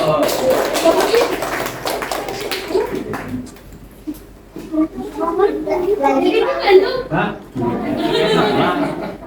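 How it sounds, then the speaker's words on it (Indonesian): Schoolchildren clap their hands together in an elementary school Islamic studies class, a burst of claps near the start, then the room fills with children's chatter, chuckles and a teacher talking. "Oke, tepuk tangan dulu."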